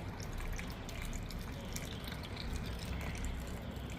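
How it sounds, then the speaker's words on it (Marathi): Salt water pours steadily and continuously into a jar of gooseberries, a dense splashing rush with faint drips, close up and without pause. "आता हे मिठाचं पाणी पूर्ण बरणी भरून असं ओतायचं"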